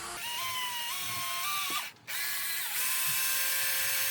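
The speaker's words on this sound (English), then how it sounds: "just drill a little hole" A power drill whines steadily at close range, drilling a small hole in a snowshoe, its pitch rising and dipping, with a brief stop near the middle before it starts up again.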